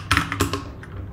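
Quick burst of keystrokes on a computer keyboard while entering a file path in Neovim, several crisp close clicks in a fast uneven cluster, then fading clatter, no voices.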